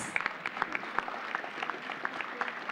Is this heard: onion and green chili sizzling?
no